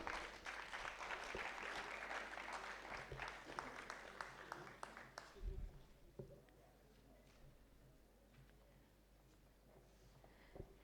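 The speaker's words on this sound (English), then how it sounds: "a huge round of applause for her" Faint applause at a conference session for the chairperson, a soft patter of many hands for about five seconds, then dying away into quiet room noise with a few stray claps and bumps.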